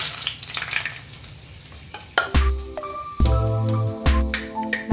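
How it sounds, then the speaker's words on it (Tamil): Fenugreek seeds crackle and sizzle in hot oil in a kadai as a tempering for bisi bele bath, a close, busy frying patter with tonal music in the background. "இப்போது கொஞ்சம் வெந்தயம் போட்டுக்கோங்க, தாளிக்கிறதுக்கு மணக்கும்."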